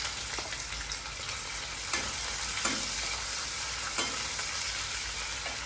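Chopped onion hits mustard seeds in hot oil in a pan while cooking a fish fry roast, giving a loud, steady close-up sizzle broken by several sharp stirring clicks.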